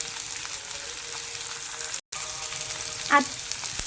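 Broad bean pods (val papdi) sauté in oil in a pan for a village-style sabzi, giving a steady soft sizzle with a brief dropout midway and a single louder clatter near the end.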